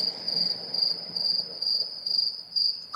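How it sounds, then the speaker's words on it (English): Crickets chirp in a steady pulsing trill, high and clear, repeating in short bursts over a quiet background with no one talking. "You have to put the cricket sound here."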